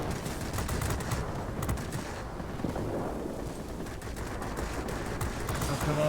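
Aircraft cannon fire in the World of Warplanes flight game, sounding as a continuous dense rattle of rapid shots over engine roar for several seconds.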